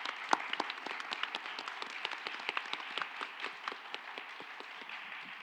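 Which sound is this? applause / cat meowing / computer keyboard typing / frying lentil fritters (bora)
applause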